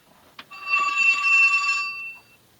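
Telephone ringing with a single bright electronic bell trill lasting about a second and a half, close and clear against near silence, preceded by a brief click.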